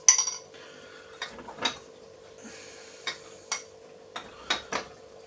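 A spoon stirs icing sugar into a coffee and walnut cake topping, tapping and clinking against the bowl in light, irregular strikes over a quiet background hum.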